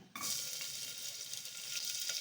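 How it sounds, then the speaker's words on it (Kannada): Sliced onion dropping into hot oil in a cooker, an immediate steady sizzle and crackle that starts abruptly and holds at a fairly even level, close by with no talking. "ಸಣ್ಣದೊಂದು ಈರುಳ್ಳಿ ಈ ಥರ ಹಚ್ಕೊಂಡಿದ್ದೀನಿ ಸ್ಲೈಸ್ ಆಗಿ ಅದು ಹಾಕ್ಕೊಳ್ತಾ ಇದ್ದೀನಿ"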